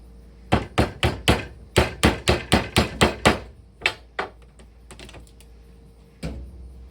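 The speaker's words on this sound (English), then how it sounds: "Always push your page hooks out before you hammer these corner ones in" Wooden corner pegs of a Codex Quest assembly driven in with a hammer: about a dozen sharp, close knocks in a quick, even run, then a few sparser taps and one last strike, no voices.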